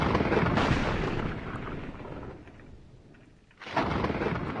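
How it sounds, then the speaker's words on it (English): A distant lightning strike in the Minecraft video game rolls out as deep rumbling thunder, fading away, then a second loud crack and rumble bursts in near the end. "I made it the lightning effect because you can actually hear that from pretty far away"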